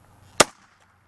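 A homemade airsoft shotgun pistol fires when struck with a hammer, giving one sharp, loud bang with a quick decay, alone against near silence.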